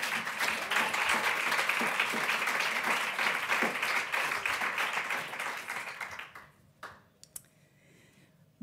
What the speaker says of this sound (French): Je vous demande d'applaudir Sandra Gardel.